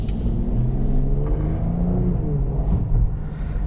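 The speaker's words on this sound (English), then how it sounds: "there it's a smooth shift" A 2017 Cadillac CTS with the 3.6 engine in sport mode, a close, steady engine drone that climbs in pitch and eases through a smooth gear shift.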